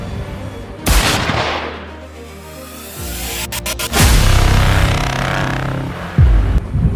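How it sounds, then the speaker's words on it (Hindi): Loud booming cannon blasts and sharp gunshots crash out amid a dense, rumbling 19th-century Indian battle din, with several quick cracks in a row and heavy impacts near the end. "चारों तरफ गोलियां, तोपों की आवाज और युद्ध का भयानक माहौल।"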